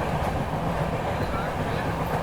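A passenger train climbing into hilly country between Gurpa and Dilwa stations on the Bihar–Jharkhand line, heard as a steady, continuous rumble of wheels and carriages with wind noise throughout, close and unbroken.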